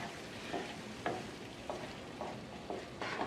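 Ackee and saltfish being pushed aside in a low-heat pan, with soft spoon scrapes repeating about every half second over a faint steady sizzle.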